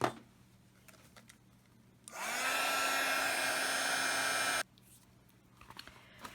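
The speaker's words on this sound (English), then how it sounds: "now I'm going to use my heat tool and dry it" A handheld heat tool blows steadily over watercolor and marker paper for a handmade traveler's notebook journal insert, a loud whooshing whine that starts abruptly, holds for about two and a half seconds, then cuts off, with faint handling noises around it.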